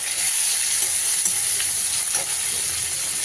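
Chopped tomato dropped into a pan of well-browned onion sizzles and fries steadily, a dense continuous hiss with a few faint stirring clicks and no talking.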